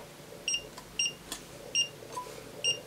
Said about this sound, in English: if it beeps, I know I've got a diode junction